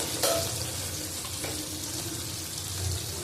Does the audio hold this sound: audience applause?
no